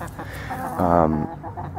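Chickens cluck and murmur softly nearby in a desert vegetable garden, with one louder drawn-out call in the middle, under faint background noise.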